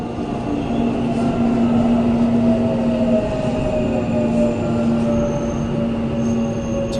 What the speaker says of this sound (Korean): 잠시 후 역에 전철이 들어왔습니다.